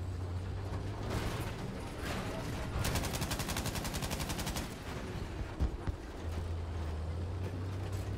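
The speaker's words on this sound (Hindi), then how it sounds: "हवाई फायर" In Battlefield 5, a weapon fires into the air as a rapid, steady burst of automatic gunfire lasting a couple of seconds over a constant low engine-like drone, followed by a few scattered thuds.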